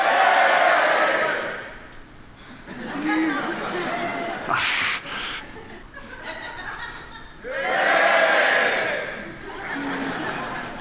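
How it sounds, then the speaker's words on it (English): A crowd in a science talk audience shouts together in a loud burst, with laughter and chatter around it and a second swell of shouting later. "Okay, how about if everyone over there shouts?"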